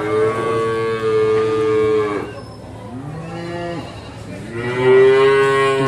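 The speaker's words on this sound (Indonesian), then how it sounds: "Di sebelah sini juga ada pedetan-pedetan sapi betina mantep seperti ini." Simmental cattle at the Sukorejo animal market moo loudly and close, with long drawn-out bellowing calls, one after another, over a busy market background.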